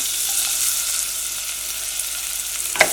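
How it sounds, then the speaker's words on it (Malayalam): Onions hit hot oil and spices in a pan while making Kerala-style meat rice, giving a steady, close, continuous sizzle with a faint clink near the end and no talking. "ഞാനിതിലേക്ക് ഇതാ കുറച്ച് സവോള ചേർക്കുന്നുണ്ട്"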